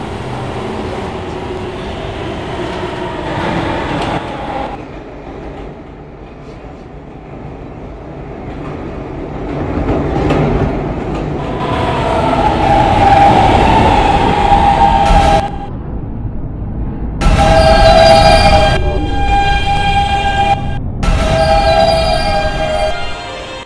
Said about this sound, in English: This is a Westwatop bound E-train.